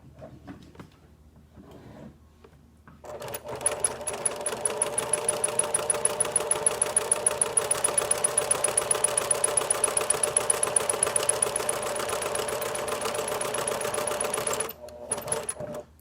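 Sewing machine stitching the curved edge of a fabric mask lining piece, a fast steady mechanical whirring clatter running continuously for about eleven seconds, close and alone, starting and stopping abruptly.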